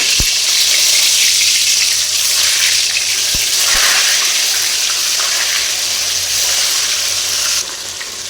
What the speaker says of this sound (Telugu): ఆయిల్ మనకి ఇలా హీట్ అయిన తర్వాత ఫస్ట్ బంగాళదుంపలు అయితే ఫ్రై